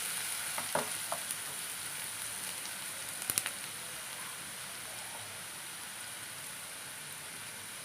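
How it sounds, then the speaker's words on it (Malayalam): Onions and curry leaves being stirred in a frying pan, a steady soft sizzle with a few brief scrapes and clinks early on, then a continuous even fry hiss with no voices. "നമുക്ക് സവോള ചേർത്ത് കൊടുക്കാം. ഒന്ന് ഇളക്കി കൊടുക്കാം."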